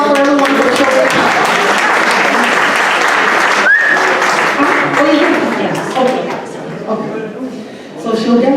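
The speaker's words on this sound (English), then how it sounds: "Round of applause for everyone for showing up." A crowd at a gathering claps loudly and continuously for several seconds, with voices and cheers mixed into the applause before it thins out and then swells briefly again near the end.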